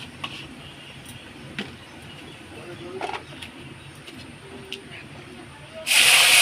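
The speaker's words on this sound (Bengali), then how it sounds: "আদা বাটা দিয়ে দিলাম এই যে ফোড়ন দিয়ে দিলাম" Ginger paste hits hot oil already tempered with bay leaf, dried red chilli and cumin powder in a home kitchen. After a quiet stretch with faint clicks, a sudden loud sizzle bursts out at the end.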